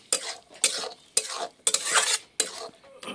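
Rice with leftover tadka is stir-fried in a pan, with repeated scraping strokes of a metal spatula and a soft sizzle between them, close and fairly loud.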